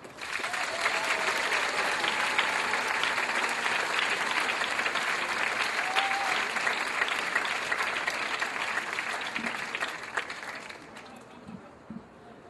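Sustained audience applause fills a stage venue as a performer is welcomed, a dense steady clatter of many hands holding for roughly ten seconds before thinning out and fading near the end.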